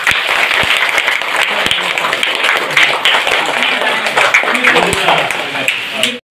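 Applause from schoolchildren and teachers at a school uniform and stationery distribution event in Chilakalanerpu village, dense steady clapping filling the whole stretch at close range and fairly loud, cutting off abruptly at the end.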